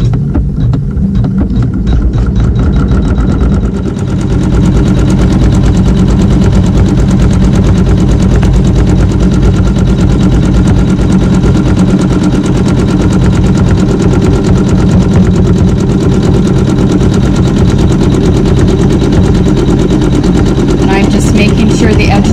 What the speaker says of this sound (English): it's going to sew a zigzag stitch and then also the placement stitch for the piecing